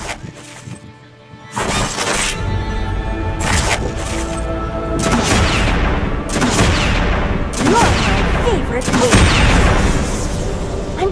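Jinx's rocket launcher attacks in the mobile game Wild Rift hit enemy minions with repeated loud bursts, cracks and booms over continuous battle noise, while a tutorial voice talks over the action.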